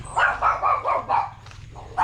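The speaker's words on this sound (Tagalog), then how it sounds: "May aso, tumatahol." A dog barks in a quick run of five or six yaps at moderate distance, pauses briefly, then barks once more.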